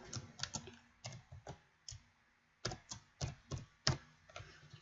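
Someone taps out a password on a computer keyboard at a Windows Server virtual machine login, with sparse, uneven clicks and short pauses between quiet keystrokes.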